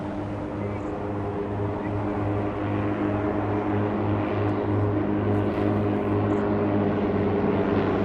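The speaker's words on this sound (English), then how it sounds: "Now I think that these are the chipmunks that are taking off." Four de Havilland Chipmunk propeller planes taking off, a steady, droning engine hum with a low rumble that holds continuously throughout, fairly loud and without speech.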